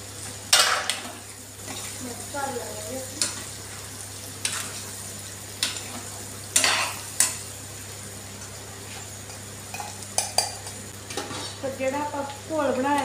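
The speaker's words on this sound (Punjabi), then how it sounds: "ਚੰਗੀ ਤਰ੍ਹਾਂ ਜਿਹੜਾ ਲੂਣ ਮਿਰਚ ਮਸਾਲੇ ਸਾਰੇ ਭੁੰਨ ਲੈਣੇ ਹੈਗੇ" Salt, chili and spice masala are stir-fried with fried potatoes in a pan: a steady sizzle runs underneath while a spoon strikes and scrapes the pan in sharp, irregular clanks every second or two.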